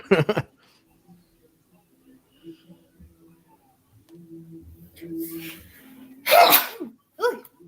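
A single sharp sneeze bursts out loudly after a stretch of quiet with faint murmuring voices, followed by a brief short vocal sound.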